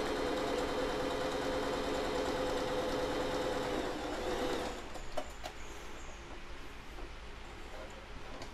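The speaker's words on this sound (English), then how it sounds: "And now she's sewing the inner part." A sewing machine stitching the inner part of a cloth face mask runs steadily at a close, even hum for several seconds, then stops, leaving faint handling clicks and rustles.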